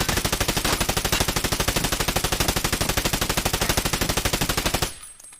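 Rapid automatic fire from the Valde rifle in Escape from Tarkov, a steady, evenly spaced stream of sharp close shots lasting nearly five seconds before cutting off abruptly into quiet.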